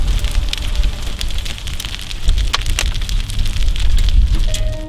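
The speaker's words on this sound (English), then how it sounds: "right now, we're getting pounded with hail." Hail from a severe storm pounds down in a dense, continuous clatter of hard impacts, with sharper, louder strikes scattered throughout and no voices.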